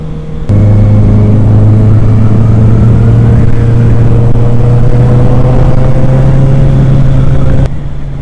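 A Honda CB650R motorcycle accelerates hard and steadily, its engine note climbing in pitch with quick-shifter gear changes. It is loud and close throughout, with no talking.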